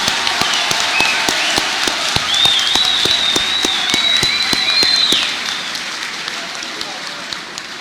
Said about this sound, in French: Acclamons-les!